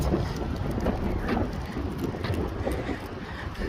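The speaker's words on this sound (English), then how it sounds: "I'm literally walking into the wind and my hat almost fell off." Wind buffets a microphone outdoors while someone walks into a strong gust, a continuous close rumbling roar with no talk.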